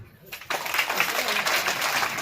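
Applause for Yamgar mama breaks out at an alumni and parents' gathering, a dense crowd clapping that starts abruptly after a brief quiet moment and continues steadily, with some voices mixed in.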